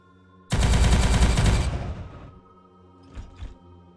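Rapid bolt pistol fire from Warhammer 40K Regicide, a loud burst of fast repeated shots about a second long that decays into a rumbling tail, followed by two brief fainter bursts.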